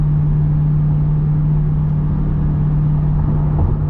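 A C8 Corvette fitted with a Corsa cat-back exhaust cruises on the highway in track mode, holding sixth gear, giving a steady, loud low drone with a constant engine hum and road rumble throughout, no voices.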